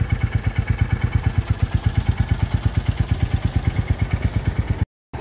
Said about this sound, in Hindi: अभी ये हमारी बाइक की प्रेजेंट साउंड है जो कि इसमें से आ रही है